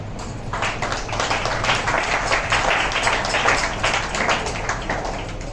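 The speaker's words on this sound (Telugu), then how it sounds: "వాళ్ళకు చప్పట్లు కొడదాం" Sustained applause from a church congregation, many hands clapping steadily and fairly close for several seconds with no talking over it.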